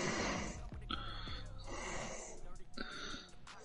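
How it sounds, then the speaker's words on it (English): Heavy, wheezing breaths blow directly into a streamer's microphone, loud and rough, and voices can be heard alongside them. "Can you control your breathing?"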